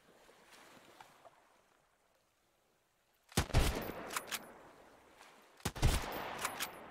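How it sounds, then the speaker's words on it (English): Two separate loud rifle gunshots in the survival game Sunkenland, one at about a third of the way in and another near the end, each a sharp broadband crack with a decaying tail over a quiet ambient backdrop. "Two shots, one to the head, one to the body."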